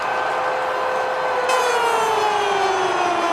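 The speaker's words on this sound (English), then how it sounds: "You can hear the siren from the middle of the city." A loud, steady stadium siren wails at a college football game between Oregon and Washington, a sustained tone that shifts and drifts slightly downward over a constant roar of crowd noise.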